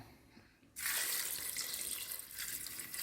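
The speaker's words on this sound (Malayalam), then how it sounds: "വെള്ളം ഒഴിക്കാം" Tap water pouring into a cooking pot: a brief quiet moment, then a sudden loud, steady rushing splash that continues to the end, close by and alone.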